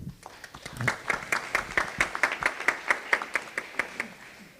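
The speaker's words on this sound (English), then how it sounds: "So in honor of Peggy, I would like for us all to give an applause, please." Slow, evenly spaced claps ring out at a community panel, a sparse, rhythmic clapping that builds slightly and carries on steadily for several seconds.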